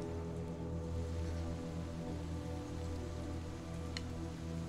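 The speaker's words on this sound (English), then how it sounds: "God, I love the rain." Steady rain falls in the video game Little Nightmares 2, a dense even hiss on surfaces that runs through the whole stretch, with a low hum beneath and no talking.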